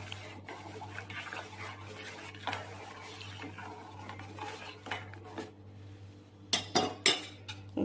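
A spoon stirs ice cream ingredients (vanilla flavouring, sugar, milk powder) in a bowl, giving soft scraping and scattered clinks that grow into louder sharp clatters near the end, with a low hum underneath.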